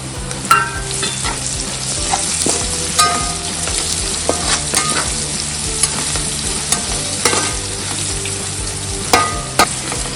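Sliced onions, green chillies and curry leaves frying in a pan for green chicken pulao, a loud continuous sizzle broken by scraping stirs and sharp pops.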